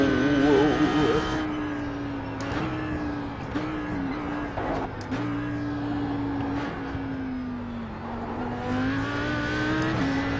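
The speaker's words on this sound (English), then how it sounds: "we got on the power really aggressively to compensate for it" Audi R8 GT3 race car powering hard out of a corner at Bathurst, a loud onboard engine drone rising and falling through gear changes, steady and close, with a voice briefly audible over it.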